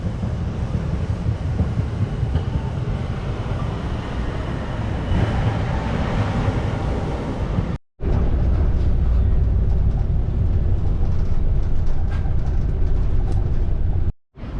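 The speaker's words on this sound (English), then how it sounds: "There goes the tram." A Nagasaki tram rumbles past along a shopping street, a broad, loud rolling roar that swells and then fades, followed by steady street noise.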